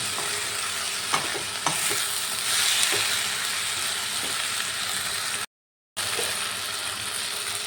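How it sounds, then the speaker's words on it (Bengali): Soaked masoor lentils and cabbage are stir-fried together in a pan: a constant hiss of frying with repeated scraping, clicking strokes of a spatula, close and steady, with a brief cut to silence near the end. "ডালগুলো দিয়েও আবার এই বাঁধাকপির সাথে ভালো করে কষিয়ে নিতে হবে"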